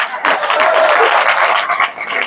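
An audience claps together in a dense, loud burst of applause that carries steadily for about two seconds before thinning out.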